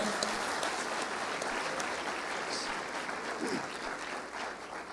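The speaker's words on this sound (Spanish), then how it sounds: "¿Por qué no le das un aplauso a ese Dios fiel que servimos?" Congregation applauding during a church sermon, a steady wash of clapping that fills the space throughout at moderate level, with no clear voice on top.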